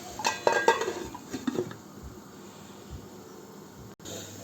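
A metal lid clatters onto a cooking pot of goat curry with tomatoes and chilies, giving a few sharp close clanks followed by quiet kitchen background.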